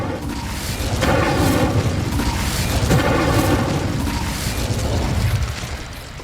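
An Incendio fire spell bursting in the Hogwarts Legacy game, a sustained roaring whoosh of flames with repeated pulsing crackles and booms, loud and close throughout.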